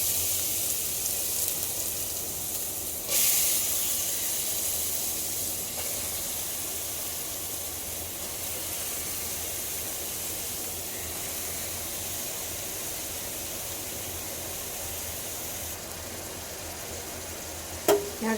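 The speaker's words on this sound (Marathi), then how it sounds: "आता आपण या तुपामध्ये किसलेला गाजर टाकूया" Grated carrot drops into hot ghee with a sudden burst of steady hissing sizzle that carries on, close and even, with no talking.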